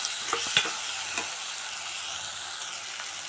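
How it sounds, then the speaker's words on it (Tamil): Ginger garlic paste and green chilies fry in a pan under a soft, even sizzle, with a few scrapes of stirring near the start, quiet and alone. "இப்போ நம்ம இஞ்சி பூண்டு பேஸ்ட்டு பச்சை மிளகாவை சேர்த்துப்போம் இதை நல்லா கிளறி விடுவோம்"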